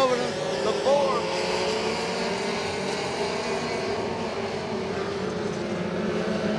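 Race trucks in a pony-class feature at Wartburg Speedway roar around the oval, a steady loud engine drone with a crowd wash and commentary over it.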